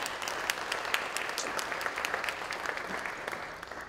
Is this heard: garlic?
no